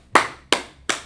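Three sharp, evenly spaced hand claps ring out close and loud within about a second, each with a quick decay, with no talking.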